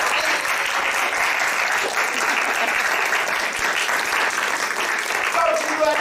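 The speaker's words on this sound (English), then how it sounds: "Give yourselves a round of applause." Theater audience at an improv comedy show applauds steadily, dense sustained clapping filling the room for several seconds with a few cheers rising near the end.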